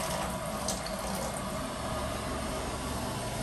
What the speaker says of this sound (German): 100 Milliliter kochendes Wasser